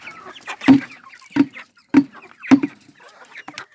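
Hens, including a black hen, cluck in four or five short, distinct bursts spaced about half a second apart, close and fairly clear against a quiet background.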